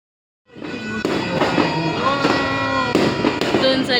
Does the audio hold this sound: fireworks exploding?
yes